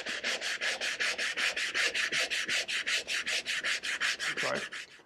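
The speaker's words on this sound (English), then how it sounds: "So I got a little bit more sanding to do." Rhythmic back-and-forth strokes of sandpaper on a wooden back slat, about two dozen even rasping passes at a steady pace, close and clear with no talking.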